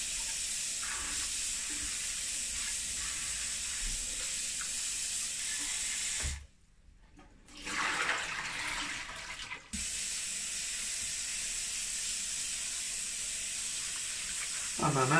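Running water pours steadily over şevketi bostan greens as they are rinsed by gloved hands, a close, continuous hiss that briefly cuts out and then resumes.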